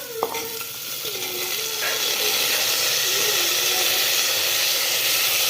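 Peas, rajma beans, cauliflower and potato being stirred in a pan for veg pulao, with a steady broadband sizzle and hiss building through the clip and a few scraping stirs near the start.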